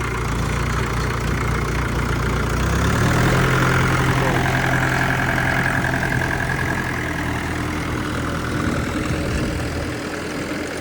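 A 1997 Mahindra 475 tractor with a rotavator attached idles close by in a steady, rumbling diesel drone, its pitch dropping slightly after a few seconds and then holding even throughout with no talk.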